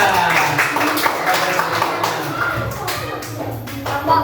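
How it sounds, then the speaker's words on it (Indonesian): Fifth-grade classroom applauding group 3 after their presentation, a dense spread of claps and taps filling the room at close range, with children's voices mixed in throughout. "Berikan tepuk tangan untuk kelompok 3"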